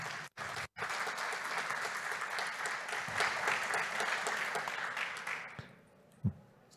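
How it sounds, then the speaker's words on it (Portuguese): Conference audience applause at an energy efficiency panel, dense clapping after a couple of brief dropouts, building steadily and then tapering off abruptly, with a single loud thump near the close. "Vamos aplaudir o Luiz."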